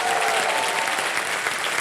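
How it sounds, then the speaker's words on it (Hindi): Audience applause on a TV game show, a dense, loud burst of clapping from a studio crowd sustained for the whole short span. "जोरदार तालियां उनके लिए"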